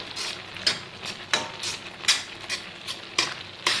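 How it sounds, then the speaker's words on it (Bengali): Pumpkin halwa is stirred in a pan, with a soft sizzle underneath and a steady rhythm of scraping strokes and light clinks of the spoon against the metal, close by and with no talk. "এভাবে নাড়বেন এভাবে নাড়াচাড়া করে থাকবেন"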